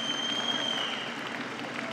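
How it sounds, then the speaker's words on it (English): A basketball crowd at a college men's game applauds steadily in a sustained ovation for a player, dense even clapping filling the gym with a faint high tone running across it. "Getting a good ovation from this crowd"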